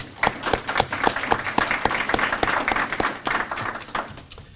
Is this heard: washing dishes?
no